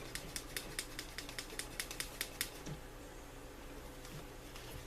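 A burnisher works a leather edge with a fast run of sharp, evenly spaced rubbing strokes that stop after a couple of seconds, leaving a quiet room with faint low background rumble.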